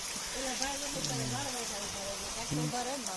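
Rain falls outdoors near a farm field, a soft steady hiss running throughout while voices talk over it in the foreground.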